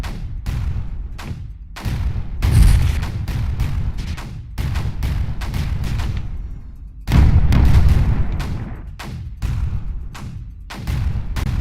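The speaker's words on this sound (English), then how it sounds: "I guess I need more than one missile launcher." Missile launchers fire in Creeper World 4 as a rapid run of sharp booms and bursts, loud and close, some in dense clusters with decaying tails and brief gaps between volleys.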